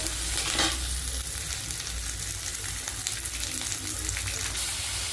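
Onions sautéing in a pan for an egg curry, a dense continuous sizzle heard up close, with a few faint utensil scrapes and no speech over it.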